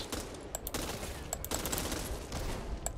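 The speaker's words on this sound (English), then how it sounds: "Firecrackers." Firecrackers crackle and pop in rapid, irregular bursts during a Back 4 Blood game, sharp close snaps over a busy background with no talking.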